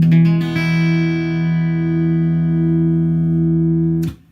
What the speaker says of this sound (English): strum all 6 strings from top to bottom